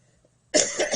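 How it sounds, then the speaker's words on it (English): A single hoarse cough after near silence, loud and close, from someone who has been working in heavy dust. "I'm coughing a bit because what I was doing was extremely dusty"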